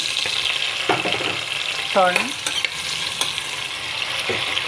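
Sliced onions sizzling in oil inside a pressure cooker, a steady broadband fry hiss with occasional stirring clinks and a brief voice murmur over it.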